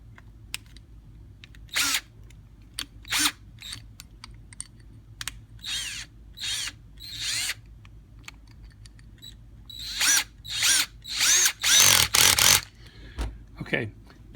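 Several short bursts of a cordless drill whirring as it turns a jet wrench on a Stromberg 97 carburetor, spaced irregularly with brief pauses between, louder and denser toward the end.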